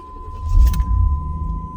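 A 1991 Chevrolet Camaro RS with 55k miles cranks and fires up, giving a deep low rumble that swells briefly and then settles into a steady idle, close by.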